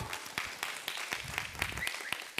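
Audience at a Pride PechaKucha Night applauding, a steady, fairly faint patter of many hands clapping with a few sharper claps standing out, no talking over it.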